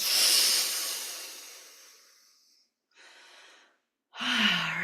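A long, loud breathy exhale during a guided relaxation breathing exercise fades out over about three seconds, followed by a short softer breath and then a louder rushing breath with a low voiced tone.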